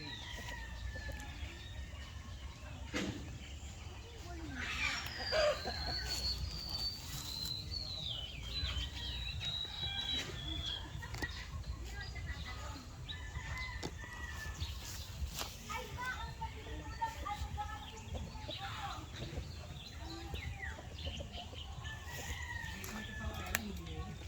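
Chickens cluck and a rooster crows intermittently amid farmyard background noise, with people talking nearby.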